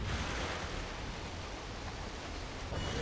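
Water pours steadily from a stone gargoyle spout in Prince of Persia: The Forgotten Sands, a constant broadband rushing wash that stays even and quiet, with no talk.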